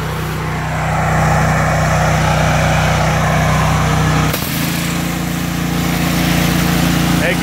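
Engine on a power wash trailer runs hard at full RPM, a loud, steady close drone that briefly dips and shifts pitch midway before settling back to a constant roar.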